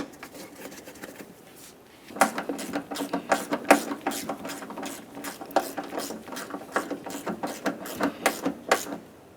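A ratchet tightens a 10mm-headed mounting bolt on a 1994-2002 Dodge Ram 2500 truck, giving quick repeated clicks in uneven bursts after a quiet start, close and moderately loud.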